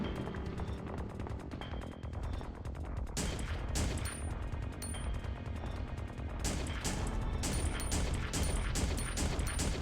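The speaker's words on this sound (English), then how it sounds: "Keep shooting him in the jugular" Rapid gunfire from the Resident Evil Survivor video game, dense bursts of shots over game music and effects, loud and continuous with sharper volleys clustering around the middle and end.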